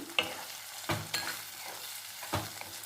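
Tomatoes are stirred in a hot pan for a Tenali Janatha hotel-style tiffin sambar for idli. A soft sizzle runs underneath, broken by three distinct scraping stirs, quiet and close.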